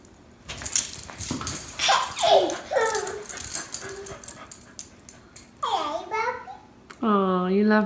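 A puppy whimpers and yips in high, wavering cries at home late at night, mixed with a child's babbling and other voices, ending in a drawn-out whine.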